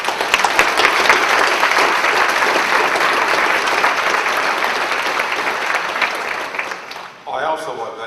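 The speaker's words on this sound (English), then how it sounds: "Let's give them a round of applause." A conference closing-session audience gives a sustained round of applause, dense and steady for about seven seconds before tapering off, with a voice starting up just after.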